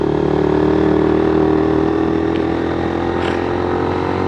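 A motorcycle engine roars loud and steady at high revs in low gear while climbing a steep hill road, holding a constant strained drone throughout with no voices.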